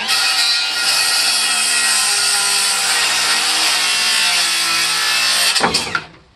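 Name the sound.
battery saw with plywood blade cutting wood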